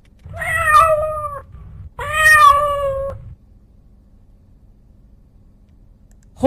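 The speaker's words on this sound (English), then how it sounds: "Cat." A cat gives two clear, drawn-out meows in quick succession, loud and close, followed by near silence.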